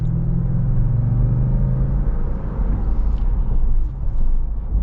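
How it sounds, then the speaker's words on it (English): A 2021 Lexus GX 460 SUV engine rumbles steadily and builds as it accelerates, a low continuous drone close by with no talking. "Let's get our minor acceleration here with the GX 460."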